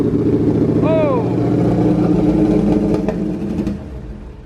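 A flooded turbocharged car engine runs loud and close, a rough, steady roar with a brief rising whine early on, then sputtering pops as it settles; voices speak over it.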